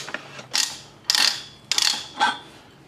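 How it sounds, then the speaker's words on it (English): RIDGID ratchet handle turned to back a die head off freshly cut thread on 2-inch steel pipe, four distinct ratcheting bursts of metallic clicking at a steady rhythm, close and clear without talk. "We basically turn the handle, the ratchet handle, the other way, and then we can take the die head off the thread we've just cut."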